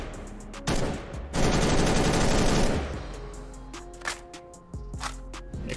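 M16 rifle in CS:GO fired in short sharp bursts of close, loud cracks, then a longer sustained volley, followed by scattered single shots and metallic handling clicks, with no talking.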